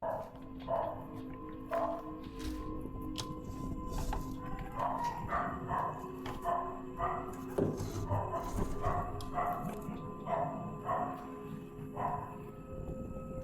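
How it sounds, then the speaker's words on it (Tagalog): A dog barks repeatedly in short bursts at a steady pace, moderately distant, at an abandoned house, over a busy background of rustling and murmuring activity. "Tapos yung aso, tahol pa ng tahol."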